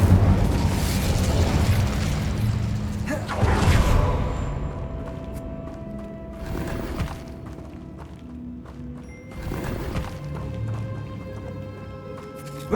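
Fire spells and explosive bursts in the video game Hogwarts Legacy, several heavy whooshing blasts spaced a few seconds apart, loud and booming over a rumbling game soundtrack.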